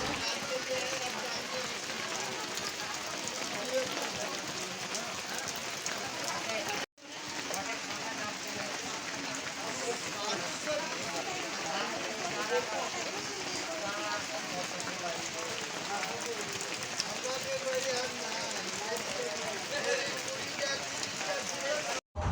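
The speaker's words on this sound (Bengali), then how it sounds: "বাইরে বৃষ্টি বলছে ঝমঝম করে" Steady, heavy rain hissing continuously outside, a dense, even wash of sound with a brief dropout partway through.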